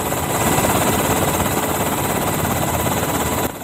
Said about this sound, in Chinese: 空警队的直升机在海面上不断的盘旋